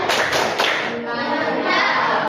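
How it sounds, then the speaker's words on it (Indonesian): Schoolchildren in a classroom do a rhythmic thumb-clap routine, a few quick group claps up front followed by children's chanting voices carrying the clapping game. "kita breaking dulu dengan tepuk jempol."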